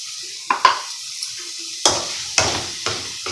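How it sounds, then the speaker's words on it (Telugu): Masala paste fries in oil for a dhaba-style egg curry, with sharp spoon-against-pan scrapes and clanks over a soft sizzle, a few distinct stirring strokes spaced through the moment. "పచ్చి వాసన పోయే వరకు బాగా వేపాలండి"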